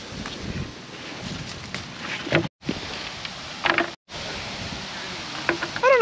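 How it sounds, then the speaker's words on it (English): Steady wind blowing across an open valley on a chilly day at a tomato farm, gusting and buffeting the microphone with rustling through most of the stretch, broken by two very short dropouts. "The wind is really coming across the valley today"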